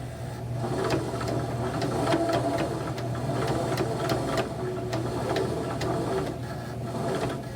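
A sewing machine stitches a fabric bookmark in a continuous, close, even mechanical whir with a rapid ticking rhythm that runs the whole time.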